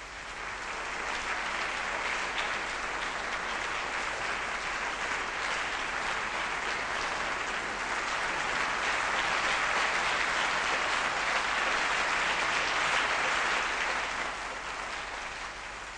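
Sustained concert applause from the audience at a live solo piano recital of Beethoven by Maria João Pires in a small Tokyo concert hall, steady dense clapping filling the whole stretch without voices.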